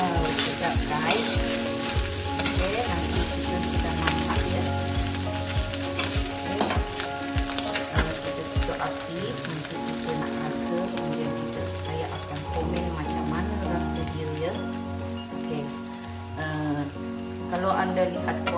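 Nasi goreng rice sizzles and crackles in a hot wok with constant frying hiss and metallic scraping of stirring, loud and continuous.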